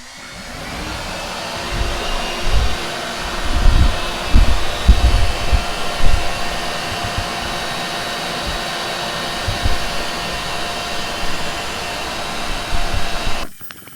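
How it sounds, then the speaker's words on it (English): CNC router cutting hardboard sheets, a continuous loud whine-like motor and spindle roar with rougher bursts as the bit bites into the board, running steadily until an abrupt stop near the end. "We got everything on the CNC hooked up. Let's go ahead and fire them up."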